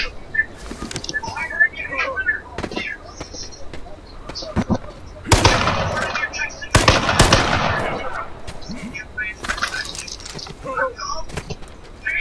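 Gunfire in the battle royale game H1Z1, with bursts of rapid shots crackling between stretches of a frantic player's voice, the loudest volleys clustered midway through.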